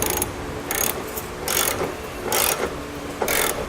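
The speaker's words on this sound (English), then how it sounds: "I'm going to go ahead and just snug these up. I'm going to be using an 11/16 socket." A hand ratchet with an 11/16 socket snugs up flange nuts while a Curt trailer hitch receiver is installed on a 2004 Infiniti FX35. Five or so short, loud clicking bursts come close to the microphone, with brief pauses between strokes.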